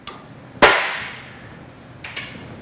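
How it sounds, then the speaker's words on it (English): A steel punch struck with a ball peen hammer on the anvil of a bench vise to dimple a 1-inch flat bar: one sharp, loud metallic strike ringing out, with a couple of fainter taps before and after. "Using a punch and a ball peen hammer on the anvil portion of the vise,"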